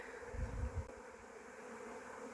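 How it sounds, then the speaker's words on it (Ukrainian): A swarm of bees arriving near a hive on a rabbit and beekeeping homestead, heard as a faint, steady, close buzzing drone with a few low thumps early on. "Прилетів рій."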